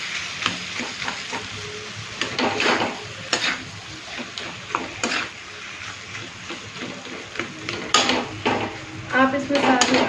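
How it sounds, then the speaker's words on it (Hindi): Mashed potato samosa filling being mixed in a pan, with repeated scraping and knocking of a spoon against the metal over a low sizzle, close and irregular throughout. "अब हम इसे अच्छी तरह से मिक्स कर देंगे"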